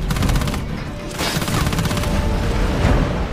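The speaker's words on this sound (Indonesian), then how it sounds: "mereka pun ketahuan dan ditembaki oleh Miles." Rapid bursts of gunfire crackle loudly and continuously, sounding like a sustained firefight with overlapping shots, from Avatar: The Way of Water.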